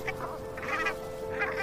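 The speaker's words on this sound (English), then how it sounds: "there are insane numbers of birds here." Pacific brant geese calling at a coastal lagoon in Alaska's Izembek National Wildlife Refuge, a steady murmur of many distant birds with several clearer honking calls rising out of the flock.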